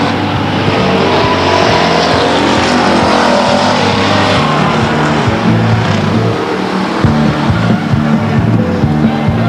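Race cars lapping at Stockton 99 Speedway during a 1999 qualifying heat, a loud, continuous roar of engines with the drone rising and falling as cars pass, under a crowd-and-track wash.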